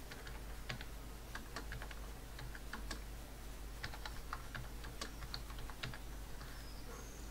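Quiet, close computer keyboard typing as a phone number is entered, with irregular clusters of light key clicks over several seconds against a faint steady hum, no talking.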